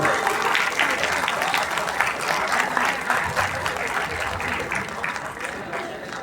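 An audience claps at a high school ceremony honouring student athletes, a dense, loud round of applause that fades slightly toward the end.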